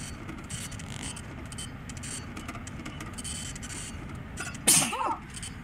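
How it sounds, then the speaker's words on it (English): A single sharp human sneeze bursts out near the end, loud and close, after a stretch of steady low background noise during a gaming session. "I'm in the middle of a sneezing fit"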